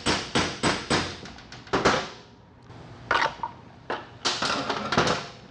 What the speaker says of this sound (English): You want to hammer the lip of the seal and collapse the seal down.